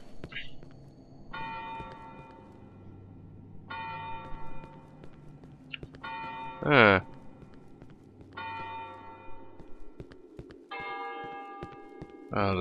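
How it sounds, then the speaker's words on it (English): Funeral church bell tolling in the horror video game Cry of Fear: slow, resonant, ringing strikes repeating at regular intervals over a low droning game ambience, with a sharp loud clatter partway through. "Oh, the funeral bell."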